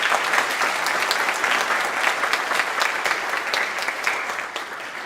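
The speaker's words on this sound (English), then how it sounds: "give all of our students today a big round of applause" Students at a 2024 underclass awards ceremony receive a sustained round of applause from a large audience, dense steady clapping filling the room at a fairly loud, even level for several seconds.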